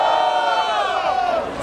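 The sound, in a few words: crowd cheering at a rap battle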